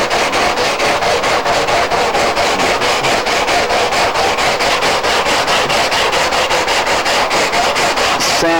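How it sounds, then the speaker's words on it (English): Coarse 40 grit sandpaper scrubs hard across a molded canard surface, knocking off the glossy finish in a loud, fast, continuous rhythm of even back-and-forth strokes, heard close up with no talking. "sand off all the gloss"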